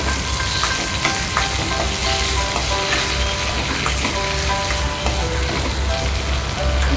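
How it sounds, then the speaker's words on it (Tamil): Sliced large onions and eggplant pieces sauté in sesame oil for a Nanjil Nadu style eggplant aviyal, giving a continuous close sizzle with soft scraping stirs and no talking. "ஸ்லைஸ் நறுக்கின பெரிய வெங்காயம் மற்றும் கத்திரிக்காய் துண்டுகளை சேர்த்து நல்ல எண்ணெயில் வதக்கிக்கலாம்."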